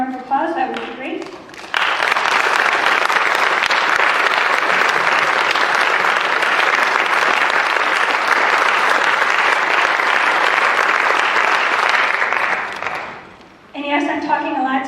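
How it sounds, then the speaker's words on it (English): A concert audience gives a long, full round of applause for professionals, elders, faculty and staff, loud and steady for about ten seconds, with a speaking voice just before and after it. "please stand so we can give them a round of applause"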